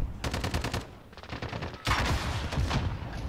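Rapid automatic gunfire from an online shooter lobby crackles in two quick bursts, then a louder, heavier stream of shots, fairly close and steady in rhythm.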